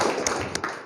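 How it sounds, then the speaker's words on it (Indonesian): Applause from a class of students after a group's presentation in a classroom, a steady patter of many hands clapping for about a second, fairly close and dense. "Tepuk tangan untuk kelompok 4."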